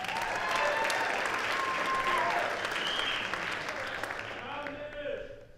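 Audience applause at a school jazz band concert, steady dense clapping close by that gradually thins and fades toward the end, with faint tonal sounds mixed in.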